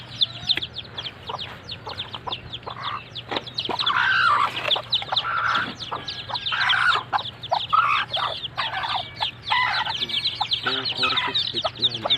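A mother hen clucks softly and repeatedly among her newly hatched chicks, with high chick peeps scattered throughout, close by over a low background hum and faint voices.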